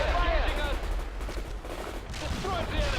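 Battlefield gunfire in the strategy game World in Conflict, with a rattling fusillade of rifle and machine-gun shots mixed with unit voice lines and radio chatter.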